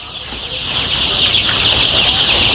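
Chickens cluck and chatter continuously nearby in a curtained poultry farm shed, a busy flock with overlapping calls throughout.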